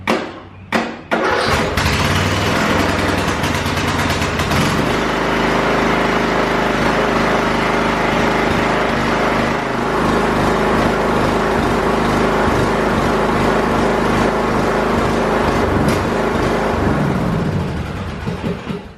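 A lawn mower engine, hotwired and cranked without a key, catches after a couple of short bursts and then roars into loud, steady running, holding close and constant to the end.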